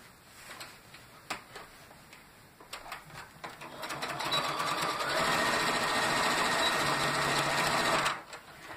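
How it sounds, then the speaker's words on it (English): A sewing machine stitches straight across the top of a fabric shoulder bag, with scattered handling clicks first, then a steady continuous whirring run for several seconds before it stops abruptly. "So I'm going to sew right across the top here."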